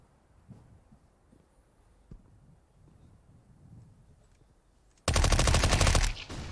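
An MP5 fires in Counter-Strike Global Offensive at a professional esports match: after quiet background shuffles and faint ticks, a loud rapid automatic burst of gunfire erupts for about a second, then cuts off.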